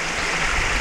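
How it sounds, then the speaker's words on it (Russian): Diluted 70% alcohol pours into a container during field collection of aquatic insects, a steady close trickling, splashing liquid sound throughout, with no talk. "То есть все это сюда спирт наливаем."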